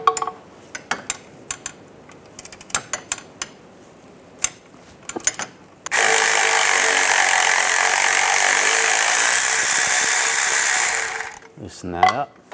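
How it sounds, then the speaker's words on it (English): A 13mm socket wrench loosening a bracket nut on the starter of a 1998-2010 Volkswagen Beetle: scattered clicks and ratcheting taps, then a long, loud, steady whirring rasp that stops abruptly, with brief speech at the end. "Now we're going to take this nut off here. On this, there's a bracket underneath it. You want to use a 13mm socket."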